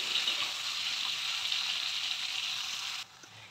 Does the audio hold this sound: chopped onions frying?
yes